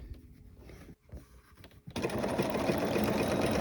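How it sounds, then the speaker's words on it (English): A sewing machine stitching a fabric rope bowl, first a few short hesitant bursts, then a steady loud close-up whir of continuous stitching that runs to the end. "let's just backtrack and take a few back stitches and catch it all in there again"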